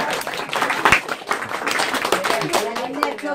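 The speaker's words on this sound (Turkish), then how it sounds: "Bir alkışlar Tuba için alalım." A small family gathering claps for a guest, loud, close, uneven hand claps from a few people, with voices talking over the clapping.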